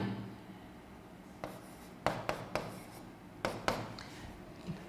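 Chalk or marker strokes on a board during a circuit theory lecture, a handful of quiet, sharp taps and short scratches in an irregular rhythm, heard close and alone.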